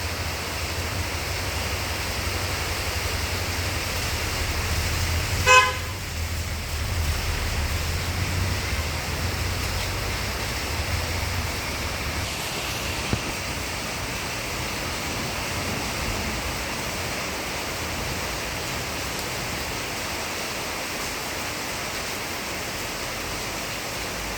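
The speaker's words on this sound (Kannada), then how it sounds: "ಇಳೆಗೆ ಮಳೆ." Heavy rain pours in front of a house during a lightning storm, making a dense, steady roar that stays loud throughout. One brief knock comes early on, and no one speaks.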